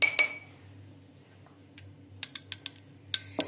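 A teaspoon tip clinks against a glass or dish while black pepper is added to a honey and nut mix: two sharp taps, then a quick run of light, bright clinks, close and quiet in a still room.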